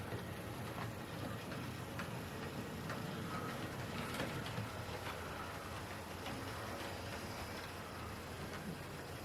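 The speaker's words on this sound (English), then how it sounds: "We can watch the this locomotive now leaving the station." A Dapol Class 22 Baby Warship model diesel locomotive pulls out of a model station with a faint, steady mechanical whir and soft clicking running throughout.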